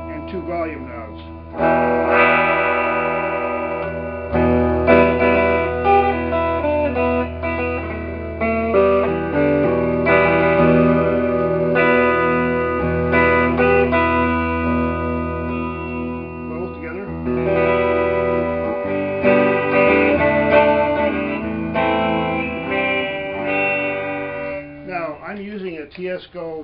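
Electric guitar played through a vintage tube amp with reverb, sustained chords and single-note lines ringing with a lush, echoing tail, loud and continuous after a short quiet start.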